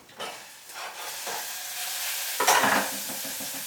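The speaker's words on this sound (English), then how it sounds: "steaming and frying zucchini" Zucchini sizzles and hisses in a hot pan, with a few stirring scrapes and a louder burst of frying near the end.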